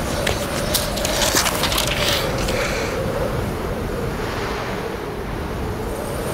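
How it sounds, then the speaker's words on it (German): Wind of an autumn storm roars in a steady broad rush, loud and close, swelling slightly then holding at an even level throughout. "Der Wind kommt näher."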